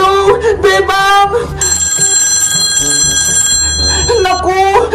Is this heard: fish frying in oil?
no